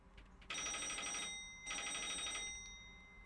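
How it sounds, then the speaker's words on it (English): Telephone ringing in a spooky office video game, two loud electronic bell rings, each about a second long with a short gap between them. "Which phone is ringing?"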